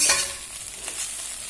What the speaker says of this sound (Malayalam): പരിപ്പൊക്കെ ഇട്ട് വറുത്തിടാം നെയ്യിൽ